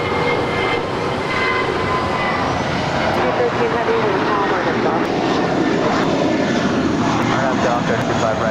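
A Korean Air Cargo Boeing 747-400ER departing LAX for Tokyo Narita runs its jet engines at takeoff power, making a loud, continuous roar.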